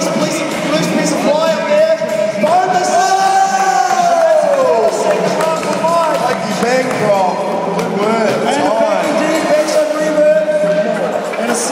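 Crowd at a national skateboarding contest cheering and shouting, a loud continuous roar of voices with whoops rising and falling, an announcer talking over it.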